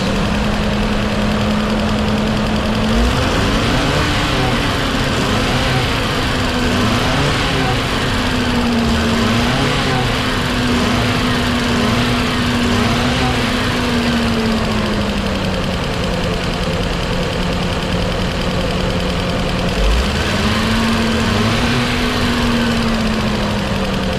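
Engine of a 2015 Nissan Caravan E26 with loss of power, running loud and steady with a rough knocking tone, its pitch rising briefly as the throttle is snapped, then settling before another snap near the end.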